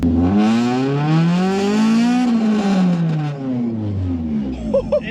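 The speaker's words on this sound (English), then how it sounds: "This is the loudest car I've ever driven." A modified Honda Jazz Type R engine revs hard and loud, its pitch climbing, holding high, then falling back, with a strong droning resonance throughout and a brief voice at the very end.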